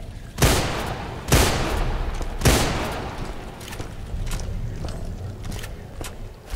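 Gunfire in the video game Deadfall Adventures: three loud, sharp shots about a second apart, each with a booming tail, followed by quieter echoing reports and ambient rumble.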